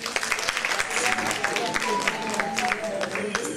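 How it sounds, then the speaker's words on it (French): An audience applauds at an International Women's Day event honoring a women's association president, with dense clapping throughout and a voice speaking over it. "On l'applaudit."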